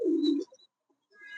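A single close, low coo from a mini king pigeon, followed by a short gap and faint fainter calls, with no voices.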